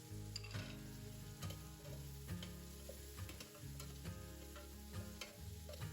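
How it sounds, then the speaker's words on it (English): Frozen cherry tomatoes fry in a pan with a soft, continuous sizzle, broken by periodic clinks and scrapes of a utensil moving them around, quiet and without talk. "I'm just going to fry those off just a little bit to start the cooking process and get a bit of caramelization"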